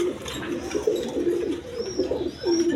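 Quality pigeons held for wholesale sale coo steadily nearby, overlapping low rolling calls repeating throughout with faint higher chirps, no voices.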